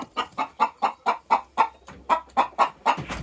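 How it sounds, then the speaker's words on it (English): A single Dutch bantam hen clucks near the coop on a homestead, a steady run of about a dozen close, evenly spaced clucks with no talk over them. "Hi, chicken. We got one chicken. My one Dutch chick."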